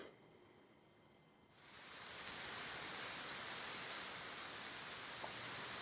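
Steady, dense rain hisses in after a quieter moment, becoming a loud, continuous downpour that fills the rest of the clip with no voices.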